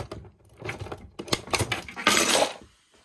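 Keys jangle and clink in a few close metallic rattles as they are handled at a fire alarm demo panel, with a brighter scrape near the end.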